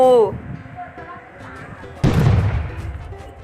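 A sudden heavy boom cuts in halfway through, loud and close, then rumbles and fades; a short tonal sound and low background noise come before it.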